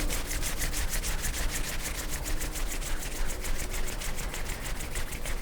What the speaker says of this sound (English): Join your palms together and rub your palms together.